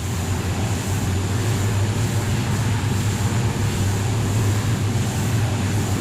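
A constant droning Beechcraft T-6 Texan II engine hum in a flight simulator game, steady and fairly loud throughout, with no speech over it.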